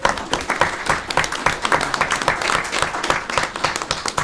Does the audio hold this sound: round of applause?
yes